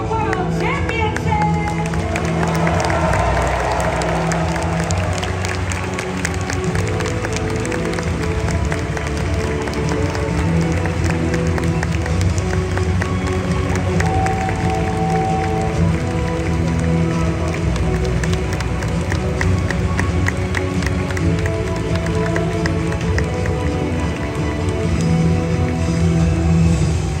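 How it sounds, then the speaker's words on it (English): Crowd applause and cheering fill the arena at the Pokémon 2024 World Championships finals in Honolulu, a long, loud wash of clapping blended with music and voices. "And now one big final round of applause to these top trainers of the Pokémon 2024 World Championships!"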